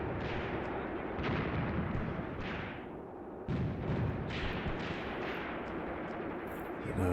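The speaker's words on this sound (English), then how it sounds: "The mortars coming in on the enemy's positions." Repeated mortar fire from the WWII Eastern Front game Graviteam Tactics: Mius Front, with loud broadband blasts striking again and again over a continuous rumbling bed of distant shelling, with no talk.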